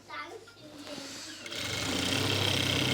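Sewing machine stitching a pheran in a tailoring boutique, its motor starting up and whirring steadily for the last half of the clip, with faint rustling of fabric before it.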